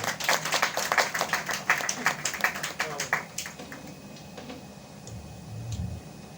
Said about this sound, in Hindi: कीर्ति काली जी को एक बार जोरदार तालियों से